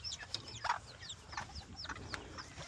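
Old English chickens cluck softly and repeatedly at a farmyard coop, with short chirpy calls scattered over low rustling ground noise and no talking.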